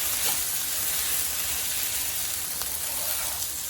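Okra cooking in a pan over medium-high heat, an even, close, continuous sizzle with faint crackles and no voices.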